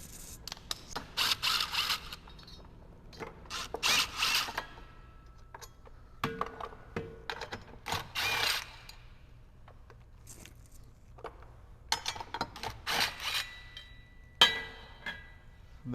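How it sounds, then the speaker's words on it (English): A wrench works free Loctite-secured bolts on a jetski's intake grate, giving sparse, faint metallic clicks and short scraping bursts with quiet gaps between them and no talking. "So we want to use a wrench just to kind of break the Loctite loose."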